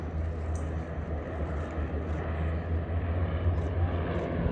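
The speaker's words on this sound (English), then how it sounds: "And then Nigel Lemon in the Moth Major, bringing up the rear with a half Cuban." A de Havilland Moth Major propeller biplane drones overhead at the Duxford Battle of Britain airshow, a steady engine hum at moderate distance heard under a commentator's voice.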